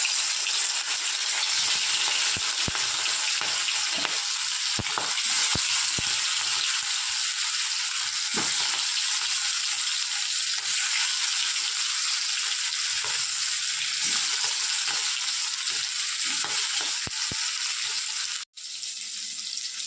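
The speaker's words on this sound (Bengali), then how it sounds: "আমি একে একে মাছগুলো দিয়ে দিচ্ছি।" Hilsa fish pieces frying in hot oil in a wok, a steady loud sizzle with crackling that continues without pause, briefly dropping out near the end.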